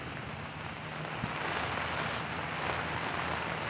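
Steady rain patters on the canopy of a G4FREE 72-inch umbrella, a dense, even hiss of drops that continues throughout, close overhead and with no voices.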